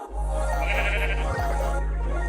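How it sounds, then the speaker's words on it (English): Sheep in Minecraft give a single sustained bleat, steady and fairly loud, over a low constant hum from the game. "we will then go and breed the sheep"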